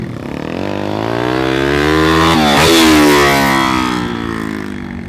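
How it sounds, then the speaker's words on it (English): A dirt bike downshifts under engine braking, its engine note climbing and falling as the bike passes close by, swelling to a loud peak midway and fading again, with no talk. "He's just going to click down his gears. He's just going to use his engine braking now."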